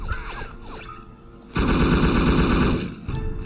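A Kalashnikov rifle fires in the video game No One Lives Forever, with one loud, sustained automatic burst of about a second and a half in the middle that cuts off sharply. Quieter game ambience surrounds it.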